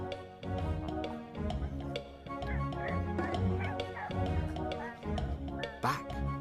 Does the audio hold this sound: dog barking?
yes